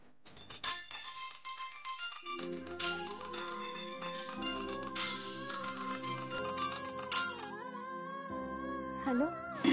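A telephone rings with a melodic electronic ringtone in a Bengali TV drama scene, a sequence of sustained, clear tones repeating with rising and falling pitch.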